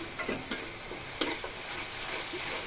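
Spice masala of chili powder and cumin powder being stirred and fried in a pan for a fish curry, with a steady soft sizzle and intermittent scraping strokes of a spoon, fairly quiet and close.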